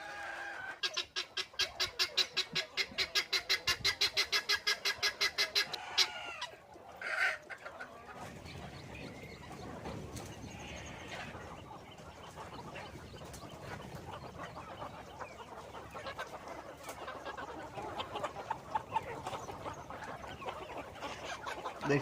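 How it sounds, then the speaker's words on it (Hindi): Chickens cluck and call while pecking at azolla fed to them on a poultry farm, starting with a run of loud rhythmic clucks and continuing as softer, scattered clucking and rustling. "देख रहे हो दोस्त कितनी पसंद से खाएंगे मुर्गियाँ"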